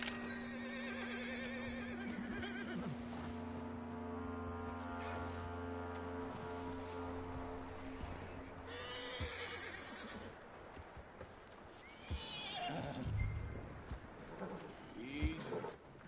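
A horse neighs and whinnies in the Red Dead Redemption 2 video game, a long loud whinny at the start followed by snorts and movement over ambient game sound.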